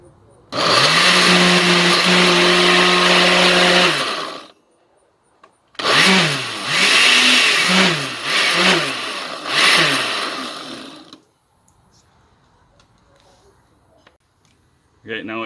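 A blender pulsing pineapple roars loudly for a few seconds, pauses, then runs again in uneven surging bursts before cutting off to quiet.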